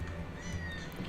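A kitten meows softly while being held and stroked, a faint high cry over a low, steady background hum.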